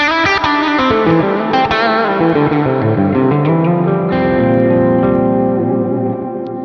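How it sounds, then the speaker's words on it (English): Electric guitar notes and chords through a plugin, drenched in heavy reverb with a slightly gritty, breaking-up tone at the edge of breakup, ringing out with no voices. "So there's a ton of reverb there, but really it's kind of like at the edge of breakup."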